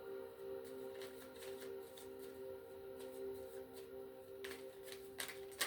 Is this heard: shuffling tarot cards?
yes